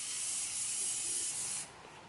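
A can of spray paint hisses in one continuous, close, bright spray for about a second and a half, then cuts off, leaving quiet room noise.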